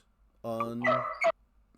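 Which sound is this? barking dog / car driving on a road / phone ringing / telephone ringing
barking dog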